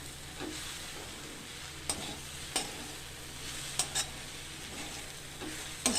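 Drumstick leaves fry in a pan under a constant close sizzle, with a spatula scraping and tapping the pan every second or so.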